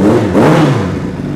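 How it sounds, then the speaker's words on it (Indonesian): A Honda CBR 600 Supersport 600 cc racing motorcycle with a racing ECU revs loudly at close range. Its engine note swells, then eases off, with no voices. "Ini motor gua Honda CBR 600 untuk kelas Super Sport 600 cc"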